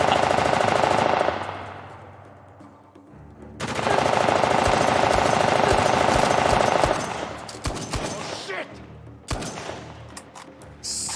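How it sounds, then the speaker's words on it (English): Bursts of suppressive machine-gun fire in the Uncharted Lost Legacy video game on PS5 come in long, loud sustained volleys, with a lull between them and then scattered shots. "You just cannot fight that suppressive fire, man."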